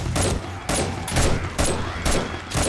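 Repeated bursts of automatic gunfire in the 7 Days to Die game, several loud close volleys with brief gaps between them, no talking.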